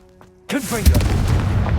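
A Confringo blasting spell goes off in Hogwarts Legacy, a sudden loud burst after near silence, with a low rumbling tail and crackling debris sounds that carry on to the end, a voice mixed in.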